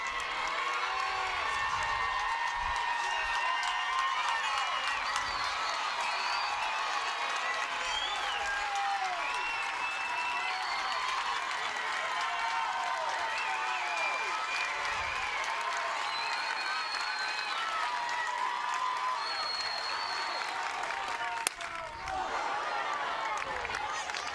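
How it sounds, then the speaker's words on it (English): Crowd at a Texas Tech vs Mississippi State softball championship game cheering and clapping steadily from both sides of the stadium, a continuous roar under a commentator talking. "the whole crowd is into it, both sides"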